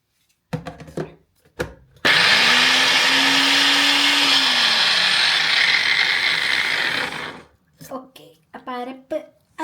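A mixer grinder whirs loudly for about five seconds, grinding spices that include cinnamon pieces for a Kottayam-style kappa biriyani, with clicks and handling noises before and after.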